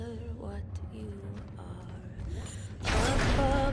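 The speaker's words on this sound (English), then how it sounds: "As the door closes, we start applying mix changes to the sound." A door in the sci-fi horror video game Dead Space slides shut with a mechanical creak and whir over a low ambient drone, then a louder, broader rush of machinery as it closes.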